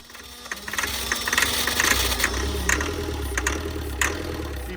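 Abandoned Land Rover Defender 110 with a 300Tdi diesel engine running after being revived, a steady clattering idle with rhythmic knocking, fairly close and alone without voices.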